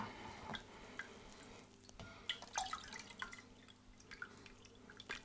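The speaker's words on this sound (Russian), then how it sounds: "Ну что, давайте дольем воды." Water trickles and drips into a round home aquarium during a refill after cleaning, with faint, uneven splashes and droplets, quiet and close, without speech.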